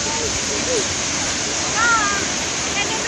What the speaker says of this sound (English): the water's coming through the Waterfalls National Park and cascading down